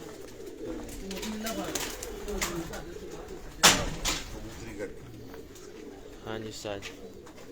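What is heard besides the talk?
Chinese pigeons cooing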